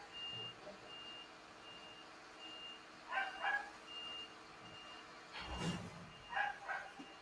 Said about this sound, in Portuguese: Agora os doguinhos estão empolgados por causa do caminhão de lixo.